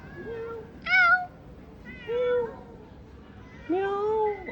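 A cat meows three times, each call a distinct rising-and-falling cry spaced about a second apart, heard close and clear over a quiet background.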